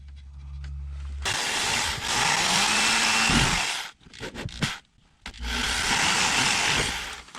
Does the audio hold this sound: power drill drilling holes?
yes